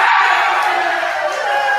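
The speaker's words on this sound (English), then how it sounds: "They're cheering for you." A crowd at a soccer game roars and cheers continuously, loud and close, as a dense wall of voices that holds steady throughout.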